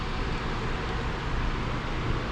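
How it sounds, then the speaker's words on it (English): Electric fans running in a hot garage, a steady broadband whooshing roar filling the space, constant and fairly loud with no pauses. "sorry about all the noise for the fans, but it is hot in here and I need the fans going"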